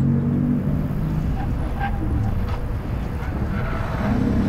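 A car engine drones loudly and steadily during a timed lap, with a deep, full rumble and road noise that stay close and constant throughout.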